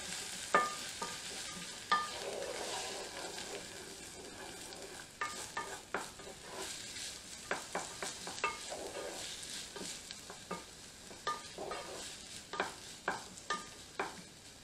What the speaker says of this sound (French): Et je fais revenir mes oignons tout doucement.